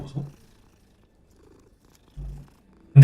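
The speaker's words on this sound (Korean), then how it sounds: "고롱고롱거리는 거 보소." A cat purrs in a Harry Potter video game in short, low, soft rumbling bursts separated by near silence, with the last burst louder and cut off at the end.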